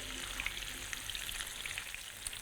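Paneer pieces shallow frying in a pan, a soft, steady sizzle with faint crackles throughout, fairly quiet and with no voices.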